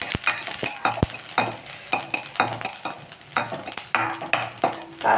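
Mustard seeds, urad dal and ginger fry for a curd rice tempering, a soft sizzle broken by repeated sharp pops and spatters alongside intermittent scraping and stirring of the pan.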